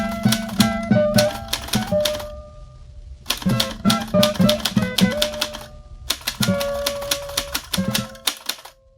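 A manual typewriter clacks in quick bursts of keystrokes, each run ending with a bell-like ring and carriage sounds, three close, crisp sequences separated by short pauses.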